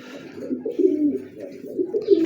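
Caged pet birds, a white male and a black female, giving soft, low, repeated cooing calls close by in an indoor room with no talking.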